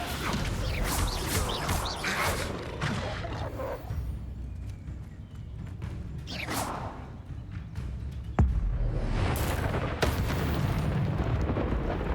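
Spell blasts and crashes in Hogwarts Legacy come as a dense, rumbling stream of magical bursts and impacts, with a sharp crack near eight seconds and loud whooshing swells layered over a continuous roar.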